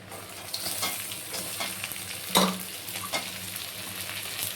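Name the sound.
onions, garlic, ginger and dried chili frying in oil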